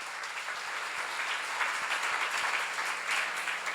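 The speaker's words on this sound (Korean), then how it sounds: "박수를 하세요." A church seminar audience applauds steadily and fairly loudly, a dense wash of many hands clapping for several seconds with no talking.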